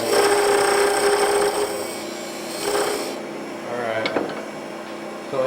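A wooden tenon being shaped by hand with rasping, rubbing strokes, close and moderately loud at first, then fading into fainter intermittent scraping with a few sharp taps.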